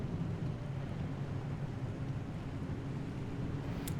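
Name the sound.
approaching storm with thunder in the video game Pacific Drive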